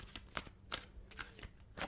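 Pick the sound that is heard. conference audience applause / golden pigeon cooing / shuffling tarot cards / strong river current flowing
shuffling tarot cards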